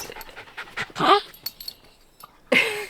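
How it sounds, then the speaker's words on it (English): An excited puppy pants near the microphone in quick, breathy bursts, with two louder huffs and soft whimpers, while people's voices can be heard faintly around it. "Puppy! Puppy! There he is!"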